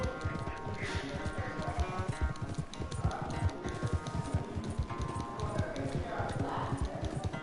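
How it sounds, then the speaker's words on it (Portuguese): Horse hooves galloping in a race in the video game Red Dead Redemption 2, a fast steady clip-clop rhythm running throughout, loud and close, with faint game ambience underneath. "A corridinha de cavalo é da hora."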